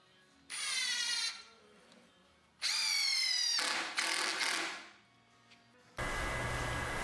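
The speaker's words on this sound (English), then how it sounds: "I don't always pre-drill, but sometimes I really want to avoid having the board end split." A power drill bores pilot holes into 30-plus-year-old scrap wood boards in three loud whirring bursts, each spinning up, biting and winding down, the last ending abruptly as a harsh noise takes over.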